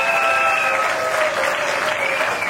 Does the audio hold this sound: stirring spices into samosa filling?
no